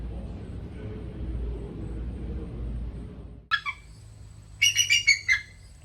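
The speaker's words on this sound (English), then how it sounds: "Wow, it's a bald eagle" Low rumbling gives way to high, chittering calls of a bald eagle in Charleston, South Carolina: one short burst, then a longer series of sharp piping notes.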